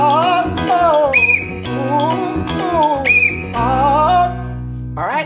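Sharp, high whistle tones recur several times over steady background music, each lasting under a second, with a final short burst at the end.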